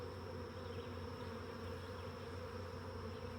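Honeybees swarming around an open hive during an apiary inspection form a dense, continuous, even buzz, close and steady throughout with no voices.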